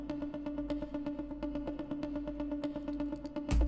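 A guitar track processed with EQ, compression, saturation and an amp, duplicated and played at double tempo, gives fast, repeating plucked notes in a steady rhythm at low level, ending with a brief louder thump, with no voice.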